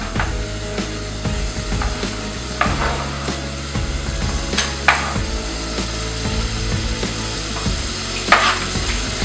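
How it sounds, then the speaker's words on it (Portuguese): Bacon fries in a pan with a steady sizzle while a utensil stirs and scrapes, giving repeated clicks and knocks through the crackle. "O Thiago já colocou o bacon aqui na panela para fritar"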